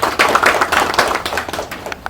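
An audience gives a big round of applause for Leela Hotels at a music preview event: dense, close clapping that holds steady for about two seconds, then begins to thin out.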